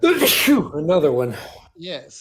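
A single sneeze bursts out loud and close, then someone talks briefly afterward.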